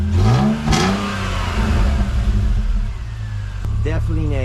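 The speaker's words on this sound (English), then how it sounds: "Definitely a deeper tone," A BMW race car with a modified exhaust revs up loudly and close, its deep engine note climbing in pitch, then falling back to a rumbling idle before a second short rev.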